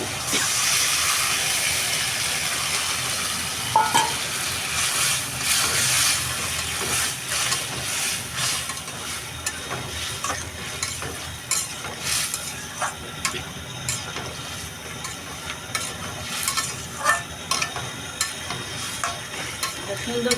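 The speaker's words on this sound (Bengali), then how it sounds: "আগে আলুটা সুন্দর করে কষাই নেব" Potatoes frying in a pan of spice masala, stirred continuously with a close, loud crackling sizzle and frequent scraping clicks of the spatula, going on steadily with no voices.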